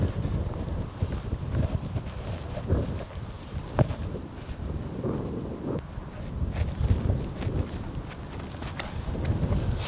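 Strong wind gusting across a disc golf fairway during a competition round, a steady rough roar and buffeting against the microphone that continues throughout with no voices.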